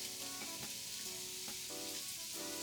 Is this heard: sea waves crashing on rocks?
no